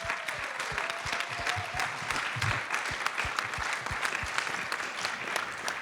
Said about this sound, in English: Let's please give a round of applause for our candidates.